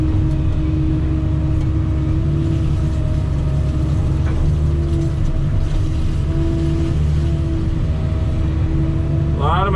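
A Kubota skid steer pushing backfill material up and around a slope beside a swimming pool, its engine a loud, steady, close drone that holds without a break.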